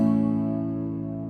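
A single major chord strummed on guitar rings out and sustains, slowly decaying with rich harmonics, heard alone without talk.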